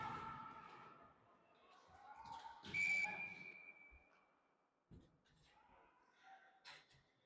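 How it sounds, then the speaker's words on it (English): A referee's whistle blasts once, sharp and fairly close, over crowd chatter and rink noise at a youth ice hockey game between the Raleigh Raptors U13 Elite and the Hampton Roads Whalers 14U AA. "And we have a whistle"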